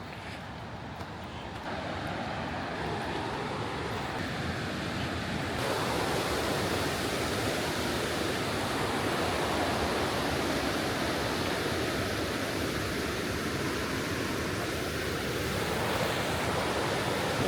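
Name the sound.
fast-flowing river stream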